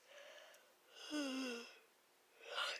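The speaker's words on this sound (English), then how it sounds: "Sorry about the yawns." A person yawns with a long, drawn-out breathy moan that slides downward, followed by another rising breathy exhale, close to the microphone.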